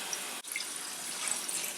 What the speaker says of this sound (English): now we've got the water running, and we're just going to dump the leaves in. Giving them a good little spray.